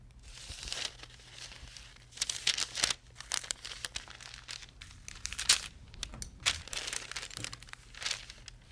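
Scissors snipping through coat fabric and its lining for the back of a pillow, giving irregular crinkling, rustling cuts in close bursts with short pauses, and no talking.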